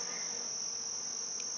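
Honeybees buzz at the hive in a dense, continuous whine that stays steady and close throughout, with no voices.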